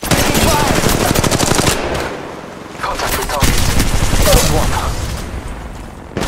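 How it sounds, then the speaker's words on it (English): Gunfire in the mobile battle-royale game Apex Legends Mobile: loud, rapid automatic bursts in two long volleys separated by a brief lull, with a voice talking partway through. "Taking fire."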